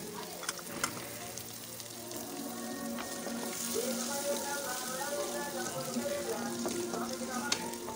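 Steady sizzling of garlic and ginger frying in a hot pan after softened onions, with occasional light stirring clinks and faint background talk.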